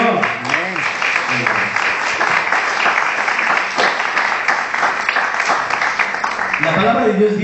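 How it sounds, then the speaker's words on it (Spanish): A church congregation applauds during a Spanish-language sermon, dense clapping filling the room while a voice speaks over it near the start and again at the end. "Un aplauso para el Señor."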